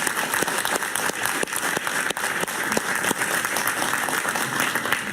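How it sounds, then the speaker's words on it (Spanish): Studio audience on a Spanish-language talk show applauds guest Pablo Medina, a Venezuelan opposition leader and head of the Junta Patriótica Venezolana: a dense, steady wash of clapping that stays loud and close for the whole stretch. "Un aplauso para Pablo, por favor."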